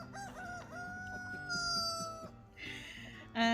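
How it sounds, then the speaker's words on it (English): A rooster crows once in a long, drawn-out call nearby, followed by a few shorter clucks and other birds. "there's a rooster behind you."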